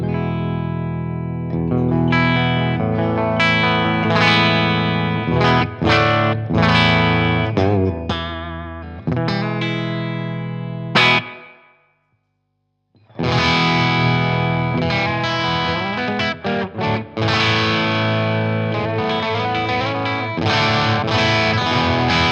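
Electric guitar on a humbucker pickup plays through a Blackstar HT Venue Mk 2 amp, loud overdriven chords and picked notes in a rhythmic riff, a brief silent pause midway before the playing resumes.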